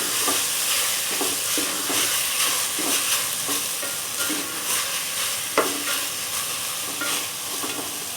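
Onion and sugar frying in a pan make a loud, steady sizzle close by, with repeated scraping of a spoon stirring through them and one sharper knock. No one speaks.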